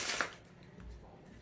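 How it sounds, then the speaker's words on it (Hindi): A deck of playing cards is shuffled up close, giving a brief, quiet riffle of papery flutters and a soft snap. "जितना चाहिए शफल कर सकते हो"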